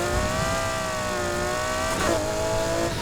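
A car in the racing game Need for Speed Heat, its engine revving hard and holding a high, strained whine that dips briefly mid-clip and then climbs again, loud and continuous with no talking.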